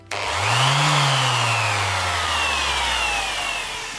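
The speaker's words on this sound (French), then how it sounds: "vous devez souvent vous servir de ce type de machine, une ponceuse excentrique" A random orbital sander starts with a sharp jolt, quickly rising to a loud, steady whining hum that holds at full speed, then slowly lowers in pitch as the motor keeps running without talk.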